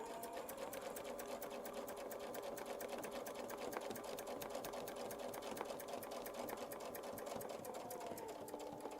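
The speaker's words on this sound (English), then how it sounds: "Line up our reference lines again, and we'll sew the next one." A sewing machine stitches a petal-shaped curve guided by a Westalee Flying Bell Curve template, running in a steady, rapid, uninterrupted whir of stitches from start to finish.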